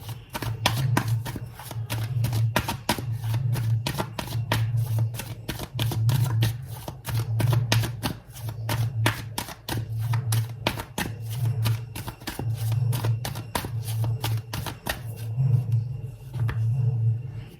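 Tarot cards shuffled by hand, a steady papery riffle of quick ticking flicks running for many seconds, close and fairly quiet, with no talk over it.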